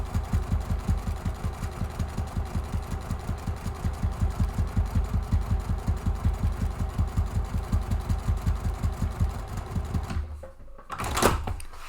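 Sewing machine stitching over a seam on a messenger bag slip pocket, a fast, steady mechanical chatter running for about ten seconds before stopping, followed by a brief clatter as the fabric is handled.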